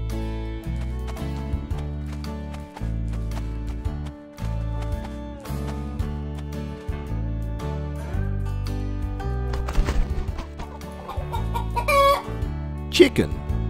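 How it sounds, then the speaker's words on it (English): A chicken clucks over cheerful children's music, with scattered clucks through the track and a louder burst of squawking toward the end. "Chicken."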